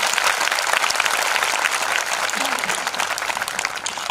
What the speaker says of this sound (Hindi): ताली बजाकर प्रभु के नाम को